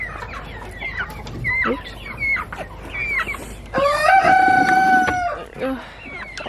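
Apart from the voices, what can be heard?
chickens clucking and crowing in the coop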